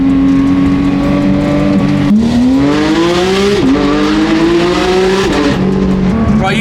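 A Porsche sports car engine, heard from inside, climbs in pitch through repeated hard pulls, each broken by a sharp shift, loud and continuous throughout with no talk.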